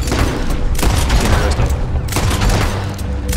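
Gunfire in Red Dead Redemption 2 during a firefight: loud, continuous overlapping shots with booming reports that blur into a steady barrage.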